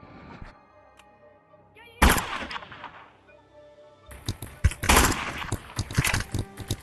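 Gunshots from the Animal Rivals battle royale video game break out in loud bursts, a sharp blast near the start and a rapid volley of shots toward the end, with quieter game sounds between.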